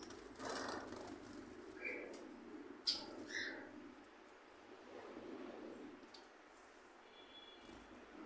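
Gouldian finches in a home bird loft give a few short, thin chirps over a low, steady background hum, while a person speaks quietly nearby.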